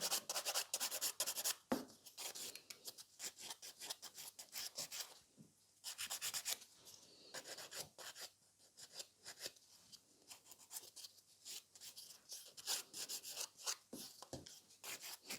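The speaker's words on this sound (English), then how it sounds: "Like I'm filing very close to also file away any cuticle which might be on the nail plate." A nail file scrapes across fiber gel nails and rasps close to the cuticle, giving repeated short bursts of dry scratching strokes that come in quick clusters with brief pauses between them.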